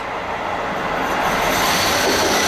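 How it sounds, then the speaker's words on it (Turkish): A train rumbles past close by, a steady loud roar of wheels and rail noise that swells slightly toward the end. "Şu an tren geçiyor zaten."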